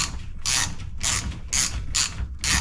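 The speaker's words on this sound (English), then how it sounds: "You got your 16mm and you can turn in and you sort of push in and turn, and then it will bite eventually on the thread." A 16mm ratchet wrench turns the fork top cap onto its thread on a 2023 Honda Monkey during a YSS suspension upgrade, giving five close, loud ratcheting bursts in a steady rhythm.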